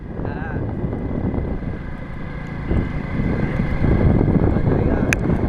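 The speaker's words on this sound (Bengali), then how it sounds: "কত সুন্দর হাওয়া লাগে, তাই না বলাস?" Steady wind rush buffets the microphone while riding a 100cc Hero Splendor motorbike, a continuous roar that swells louder toward the end, with talk mixed in.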